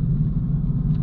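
A lifted RAM 1500 4x4 pickup on nitrous pulls hard, its engine a loud, steady low rumble close by for about a second, with no speech over it.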